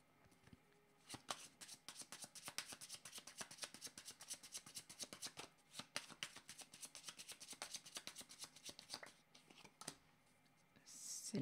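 A deck of cards is shuffled for a card reading, producing a long, continuous riffling flutter of rapid, close, papery flicks that runs almost without a break before it eases off near the end.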